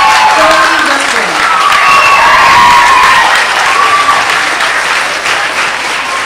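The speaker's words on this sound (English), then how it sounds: "One more round of applause for the class of 2022." A graduation crowd applauding and cheering for the class of 2022, loud sustained clapping with shouts and whoops rising over it, fading slightly toward the end.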